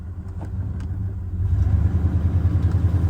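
A pickup truck with broken four-wheel drive rumbles across a harvest field, its low engine drone steady and close, swelling louder partway through with no voices.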